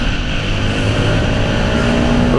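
Yamaha XSR 125 motorcycle (2021) pulling away from a green light, its small single-cylinder engine droning steadily and loud throughout, with a rising whine and wind rush.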